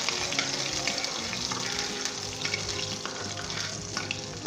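Garlic fries in a pan of Mediterranean red kidney beans, giving a soft, steady sizzle with scattered small crackles and clicks throughout.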